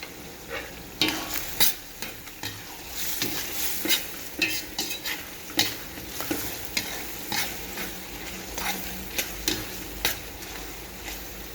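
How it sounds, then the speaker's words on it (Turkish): Onions sautéing in a pan with salt and black pepper: a continuous sizzle under frequent, irregular scrapes and clacks of a spoon stirring against the pan, close and clear throughout. "Ben soğanı bayağıdan beri kavuruyorum."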